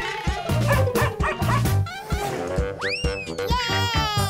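A dog yips and whimpers in short, high, bouncy barks close by, mixed with cartoon-like music and sliding whistle tones, busy and continuous throughout.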